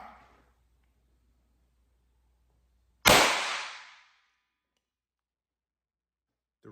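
A single sharp crack from a Mercury Rise IntruBuster air gun, 50 joules out of the box, fired once in the middle of otherwise near-silent surroundings, with a loud onset and a fading tail of roughly a second.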